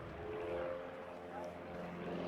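A Navion light aircraft painted in former Mexican Air Force aerobatic team colours drones steadily overhead at the Shuttleworth Festival of Flight airshow. Its propeller hum stays even beneath an announcer's commentary.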